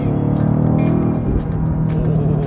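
A BMW XM with a twin-turbo V8 drives with stability control switched off, a loud, steady low engine drone with a deep harmonic hum that shifts partway through, heard from inside the car without talking.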